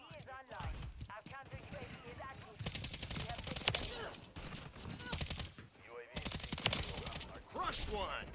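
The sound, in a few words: gunfire in video game Modern Warfare III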